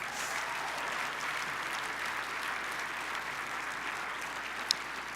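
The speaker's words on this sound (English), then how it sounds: "Please give these amazing men and women a huge round of applause." An audience applauds police officers and firefighters at a 2019 State of the City address in Reno: steady, even clapping from a large crowd sustained throughout, heard from a distance, with one sharper clap standing out near the end.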